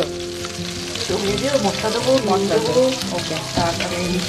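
Mashed boiled green peas fry with spices in a pan as kachori filling. There is a close, steady sizzle with scraping stir strokes.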